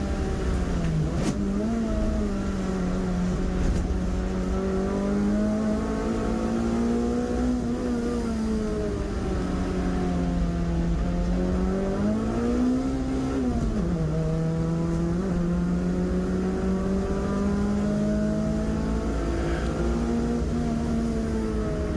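A clubman's saloon race car engine drones and revs for a long stretch on a wet track, pitch rising and falling as the wheels spin up and the car accelerates, fairly close.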